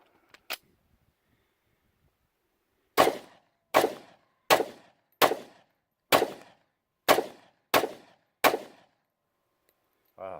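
A Kimber Super Carry Ultra Plus 1911 pistol fires CCI 200 grain rounds: one isolated shot, a pause, then eight loud, sharp reports in a steady rapid string, each with a short decaying tail.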